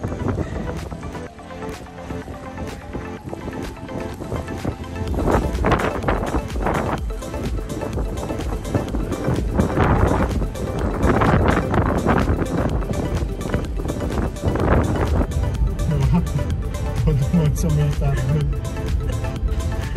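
Strong wind roars through a Winnipeg winter snowstorm, a steady, loud blustery rush that swells and gusts throughout with harsh buffeting against the microphone.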